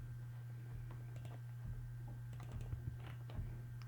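Computer keyboard keys being pressed during work in CST Studio antenna design software, light scattered clicks and taps over a steady low electrical hum, faint and close.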